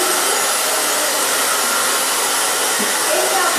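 A hair dryer blows thick, layered hair with a loud, steady, bright whoosh that holds unbroken from start to finish, close to the microphone.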